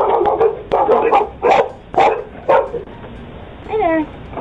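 Dog barking in a neighborhood setting, a run of about six sharp, evenly spaced barks up close, ending in a high whimpering yip.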